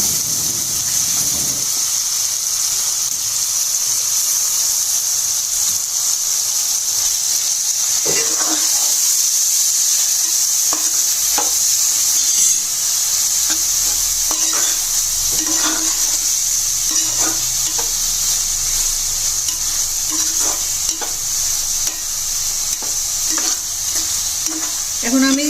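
Grated potato sizzles and fries steadily in a hot pan, with a constant bright hiss and repeated soft scraping stirs near the mic, no talk over it.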